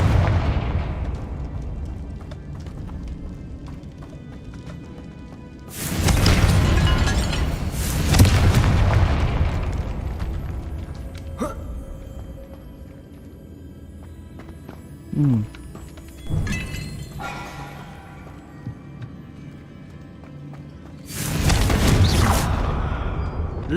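Repeated Confringo fire spell blasts in Hogwarts Legacy: three loud booming bursts a few seconds apart, each rumbling and decaying, with softer game sounds and a brief whistling tone between them.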